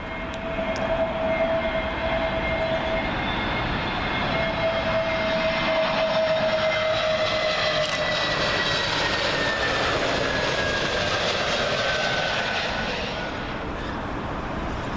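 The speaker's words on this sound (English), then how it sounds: "Up next, British Airways A321neo arriving from our good friends up in Glasgow, Scotland." A British Airways Airbus A321neo jet arriving at Heathrow, a loud steady engine roar with whining tones that sweep downward as it passes close overhead, then fades slightly at the end.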